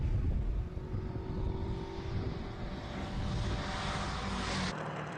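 A little 2-liter Pinto-engined Ford Escort race car pulls away from the start line at a classic car speed event, its engine a steady broadband roar, loud and close at first, holding level as it drives off.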